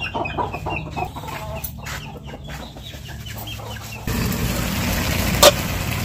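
Several chickens cluck at close range while being fed in the morning, with brief scattered calls over a steady background that grows louder near the end and a short sharp clatter.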